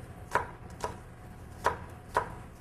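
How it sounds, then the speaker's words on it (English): A knife chops scallions finely on a cutting board for tuna meatballs, four crisp, separate, close knocks spaced irregularly over a quiet background. "And the scallions you want to chop"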